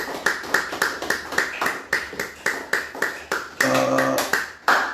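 A congregation claps in a steady rhythm during a midday church prayer service. The claps are loud and even, with a brief sung or spoken tone partway through.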